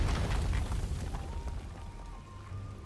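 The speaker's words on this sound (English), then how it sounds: "An enormous explosion rings out." An enormous explosion in Genshin Impact, set in the Natlan region, plays as a loud, continuous rumbling roar that fades slightly over a few seconds, with crackling debris on top.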